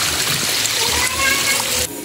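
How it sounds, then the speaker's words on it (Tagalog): Heavy rain splashing onto a wet path, with water splattering continuously at close range and a voice talking over the downpour. "Grabe po ang ulan"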